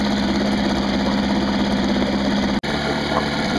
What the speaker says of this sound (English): only problem I know with this two-stroke motor is that should actually shut off automatically rather than being pushed in. That's the Tohatsu motor.